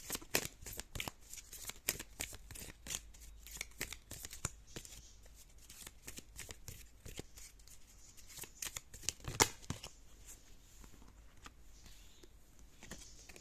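Tarot deck being shuffled steadily close up, a continuous run of soft riffling flicks and papery taps, quiet and alone with no voices.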